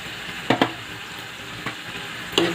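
Paneer pieces dropped into simmering palak with added water, a low bubbling hiss broken by a few distinct soft plops and stirring knocks, close and without talk.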